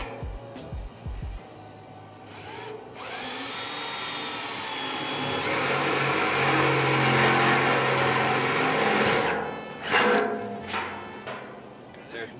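A handheld power drill whines steadily for several seconds while boring holes in the floor pan of a 1970 Impala, loud and close, then winds down, with brief clicks and handling noise around it.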